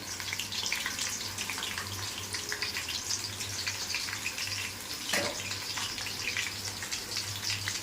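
Onion pakoda batter made with gram flour frying in hot oil, a continuous dense crackle and spatter with a low steady hum underneath and one brief louder pop.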